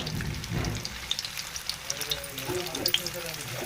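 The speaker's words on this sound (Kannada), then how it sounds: "ಎಣ್ಣೆ ಸ್ವಲ್ಪ ಬಿಸಿ ಆಯ್ತು ಅಂತ ಹೇಳಿದ್ರೆ ಪರೋಟ ಹಾಕೊಳ್ಳೋಣ" Parathas frying in hot oil in a pan sizzle and crackle up close, with scattered sharp pops; a voice talks quietly over the sizzle throughout.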